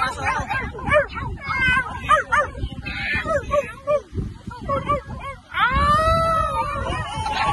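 People imitate dogs, voices yipping and barking, then break into a rising, wavering howl.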